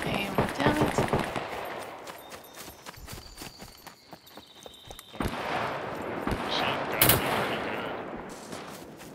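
Gunfire in the survival shooter Scum during a PvP event: rapid bursts of shots crackle close by, mixed with clicking and clattering, while players talk over it.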